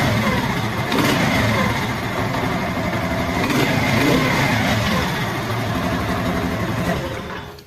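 A motorcycle engine, checked for a blocked engine blow-by pipe, runs loud and close as it is revved, its roar swelling and holding steady before easing off at the end.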